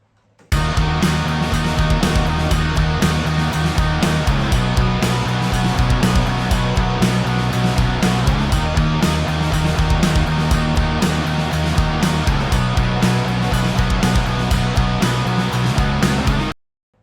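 Two punk rock electric guitars panned left and right play through a Tech 21 Marty Friedman SansAmp pedal, giving dense distorted chords in a steady driving rhythm for about sixteen seconds before stopping, loud and with no voices.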